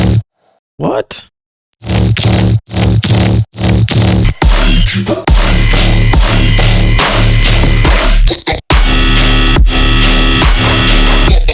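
Heavy dubstep quarter-note slug bass, loud and distorted, with dense full-range growling hits in stuttering bursts, gaps between early stabs, then a sustained wall of bass; a brief spoken word near the start.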